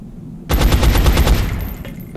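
Rapid automatic gunfire from XCOM: Enemy Unknown bursts out loud and close, a quick rattling string of shots lasting about a second before trailing off.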